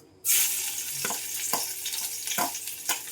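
Crushed garlic hits hot oil and bursts into a loud, steady sizzle, with a few sharp crackles and stirring scrapes spaced through the frying.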